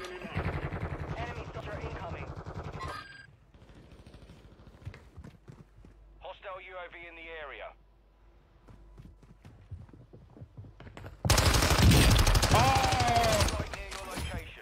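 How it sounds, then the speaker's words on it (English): Video game firefight with gunfire and a mortar strike, loud bursts of shots at the start and a heavy blast near the end, with players talking between them. "Mortar strike."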